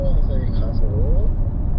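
A KIA car slowly accelerating on a driving course, its steady engine drone rising gently in pitch and holding loud and close throughout, with a voice talking over it.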